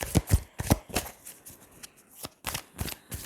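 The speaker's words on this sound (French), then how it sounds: "je vais être obligée de recouvrir certaines cartes" Tarot cards handled and laid down on a table during a reading, crisp close flicks and slaps in irregular bursts, several sharp snaps separated by quieter shuffling.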